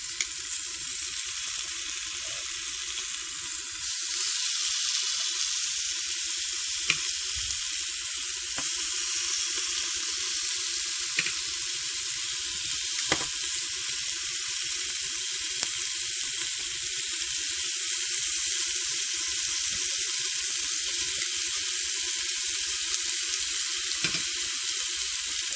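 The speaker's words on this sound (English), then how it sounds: "I'm gonna start putting this delicious looking bacon in the pot" Smoked bacon renders slowly in a pot for collard greens, giving off a continuous soft sizzle and hiss with occasional faint pops and ticks, steady and unbroken throughout.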